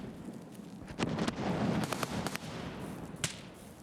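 Suppressed SKS rifle shots in Escape from Tarkov, fired from a hilltop: a few sharp, muffled cracks spread across a few seconds over a steady ambient background, moderately loud with no talking.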